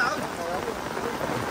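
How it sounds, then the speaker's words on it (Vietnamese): Heavy tropical downpour pounding down steadily, a dense, close hiss of rain beating on surfaces with no break, loud and continuous throughout. "mưa nổi nước luôn"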